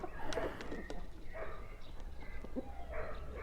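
Young roosters in a poultry breeding flock squabble, giving short, faint harsh calls and clucks scattered across a few seconds against a quiet outdoor background.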